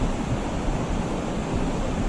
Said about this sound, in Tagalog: May rumaragas ng tubig.